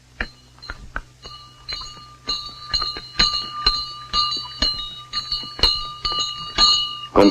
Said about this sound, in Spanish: nuevamente sonó la campana